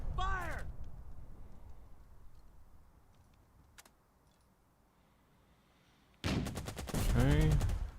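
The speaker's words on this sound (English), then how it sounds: "Alright, let's go ahead and keep hitting these enemy troops. Fire!" Gunfire from troops in the war game Burden of Command: loud, close bursts of rapid shots at the start, a quiet lull with a single faint crack, then another heavy volley of rapid fire, with cawing crows mixed in.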